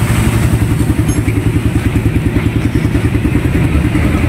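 An old-model motorcycle engine idles with a rapid, steady stream of popping backfires from the exhaust, loud and close, with no talking.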